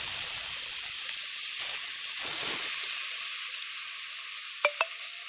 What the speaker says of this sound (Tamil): இப்போ நம்ம அரைச்சி வச்சிருக்க வெங்காயம் தக்காளி விழுத சேர்த்துட்டோம். இப்போ நல்லா அது வதங்கணும்.